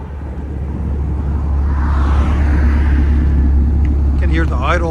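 A 7.3L gas V8 with its resonator deleted idles close by in a steady low rumble with a slight popping edge, while a voice speaks briefly near the end.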